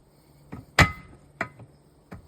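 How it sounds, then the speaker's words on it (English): A tire tool pries the lock ring onto a split rim on a 1954 Metro van, giving a few sharp metallic knocks and clanks, one loud strike followed by lighter taps, close by with no talk. "Just a little bit of help from this tire tool and it's on there"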